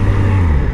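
Motorcycle engine drones steadily at close range with a low, even hum and road rumble while riding on a street, no voices.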